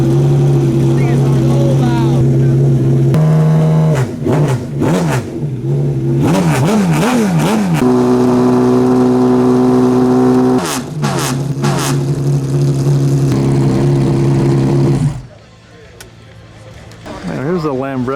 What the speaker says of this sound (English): BMW V12.